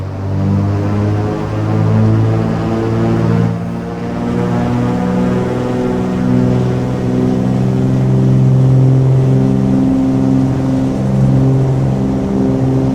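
Twin piston engines of a Cessna 414AW Chancellor at takeoff power in Microsoft Flight Simulator, a loud, steady droning hum with layered propeller harmonics that holds throughout without talk.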